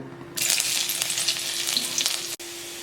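Ginger and garlic hit hot ghee in a wok and break into a loud, steady sizzle that holds for about two seconds, then cuts off abruptly before settling back to a lighter fry.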